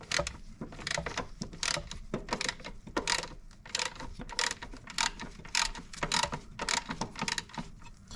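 A ratchet fitted with a 12 mm socket turns the timing belt tensioner bolt on a Lexus IS200 engine. Quick bursts of metallic clicking repeat steadily and close up, with short pauses between strokes.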